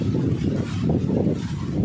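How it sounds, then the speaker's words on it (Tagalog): Strong wind buffets an outdoor microphone in blustery weather with rain starting, producing a continuous low, rumbling roar that surges and dips throughout without any voices. "Ay, lakas ng hangin."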